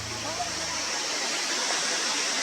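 A roadside waterfall in Bhutan, a steady full rushing roar of falling water heard close and loud, with a faint low hum at the start.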